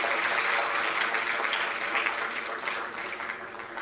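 Convocation ceremony audience applauding, a fairly faint but continuous spread of clapping that eases slightly toward the end.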